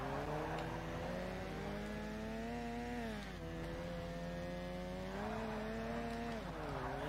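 A rotary-engine race car in Forza Motorsport revs hard at high RPM, a loud continuous buzzing drone that rises in pitch, dips briefly around gear changes or lifts, then climbs again, with no talking.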